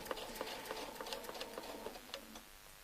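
A sewing machine stitches an echo pattern on a quilt following a continuous rope template, its needle ticking in a rapid, fairly quiet mechanical rhythm that slows and fades near the end.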